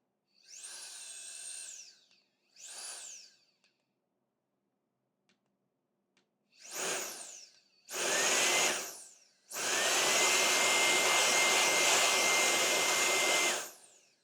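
A Zezzofan electric compressed air duster blower rated at 180,000 RPM, whining up in two short bursts, then after a pause several louder spin-ups ending in a long roaring run of about four seconds.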